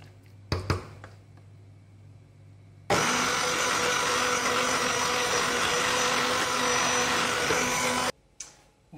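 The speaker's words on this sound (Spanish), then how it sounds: "ahora este caldo con estas verduras y la patata lo vamos a pasar por la batidora" A hand blender roars steadily for about five seconds as it purees chicken broth with vegetables and potato, loud and close, preceded by a few clicks and handling knocks and cutting off abruptly.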